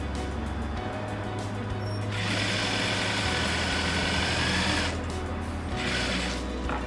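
A sewing machine runs in bursts, stitching a zip onto a fabric cushion cover with piping: a steady mechanical whirr speeds up and slows, pauses briefly, then starts again, close and fairly loud.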